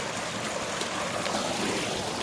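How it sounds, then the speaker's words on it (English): A small waterfall pours in an even, close rush of splashing water with no pauses and no voices. "And found my beautiful, beautiful little waterfall."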